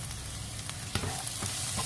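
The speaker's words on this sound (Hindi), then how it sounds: "अब हमने इसके अंदर अपने प्याज डाल देने हैं।" Onions frying in hot oil in a pan, a steady close sizzle with a few stirring scrapes and clinks, no voices over it.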